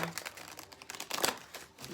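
Tarot cards are shuffled in a quick, brief burst of papery riffling and crinkling, close and fairly quiet.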